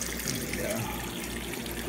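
Water drains steadily from a home aquarium down into a sump in a fish room, a continuous close trickling and rushing flow with no pauses.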